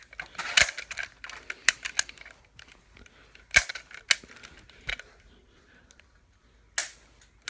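Toy pistol firing indoors behind a couch, a series of sharp snapping clicks spaced irregularly, some in quick pairs, close and crisp with quiet gaps between.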